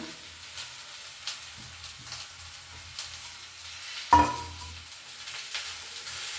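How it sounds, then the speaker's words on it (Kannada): Potatoes sizzle as they fry in a home kitchen pan, a soft continuous crackle and hiss close by, with a sharp clink partway through and a few light stirring scrapes. "ಇವಾಗ ನೋಡಿ ಆಲೂಗೆಡ್ಡೆನ ಹಾಕೊಳ್ತಾ ಇದ್ದೀನಿ"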